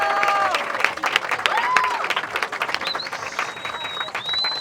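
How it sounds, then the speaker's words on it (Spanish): Audience applause and cheering at a sancocho food festival in Patanemo, a dense crowd clapping continuously for several seconds with scattered whistles and voices mixed in. "un aplauso para todos ellos."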